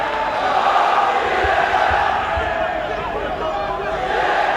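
Millfield School pupils singing and chanting among the crowd at an under-18 schools rugby final, a broad, sustained massed sound heard at a distance beneath continuous commentary.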